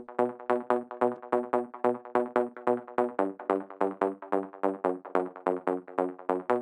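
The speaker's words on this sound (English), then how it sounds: "It's also an instance of Serum with a preset called Ride" Plucky saw bass from the Serum preset Ride in a modern trance track, playing a steady stream of short, punchy repeated notes in a tight driving rhythm, clear and alone.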